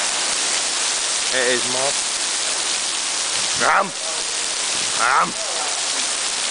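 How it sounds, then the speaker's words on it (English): Heavy rain pours down in a steady, loud, unbroken roar that fills the whole clip, while a few voices call out briefly over the downpour. "look at that rain."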